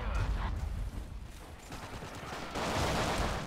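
Bursts of gunfire crackle in the World War II shooter Forgotten Hope 2 on Gold Beach, a mix of distant volleys and rapid fire that is fairly faint, with a voice speaking over part of it.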